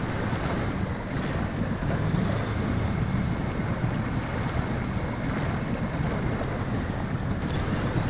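A truck in SnowRunner, an International Scout 800 mod, driving fast into water in fourth gear, a continuous broad rushing splash and churn, loud and steady throughout with no pauses, no voices over it.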